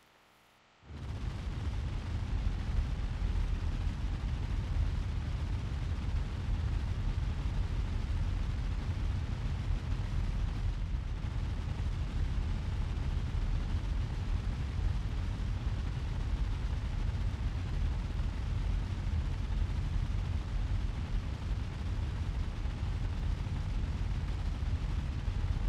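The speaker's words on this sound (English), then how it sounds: "The newest, latest fountain, the Burning Head." A Burning Head firework fountain erupts in the game Fireworks Mania with a sudden loud onset, then a continuous roaring, crackling rush that holds steady and close for over twenty seconds.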